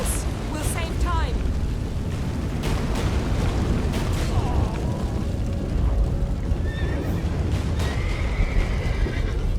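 Horse in The Witcher 3 video game neighs in sharp whinnies over a loud rumbling, crashing backdrop, with clip-clop hooves and faint cries scattered through.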